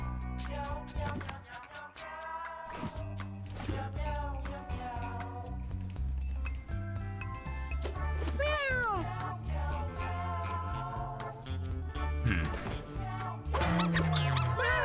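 Cats meow repeatedly in a video game, rising and falling cries set over a busy musical backing track that plays continuously and fairly loudly throughout.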